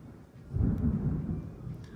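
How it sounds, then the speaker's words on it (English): Thunder from a passing summer thunderstorm rolls in as a deep, rumbling swell that builds after a quiet start and lingers, heard indoors without any talking. "now we're having a thunderstorm, so sorry if you can hear the thunder"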